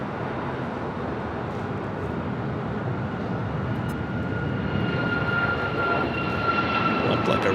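A United Boeing 737 MAX 9 jet takes off from LAX, a loud, steady broadband engine roar that builds slightly over several seconds, with a thin high whine running through it and no voices.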